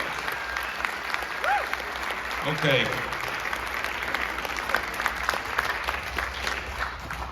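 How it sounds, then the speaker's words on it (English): A theatre audience at a David Lynch film fest in the Music Box applauds, dense continuous clapping filling the room for several seconds, with a brief voice rising out of the crowd partway through. "How about a round of applause for these three,"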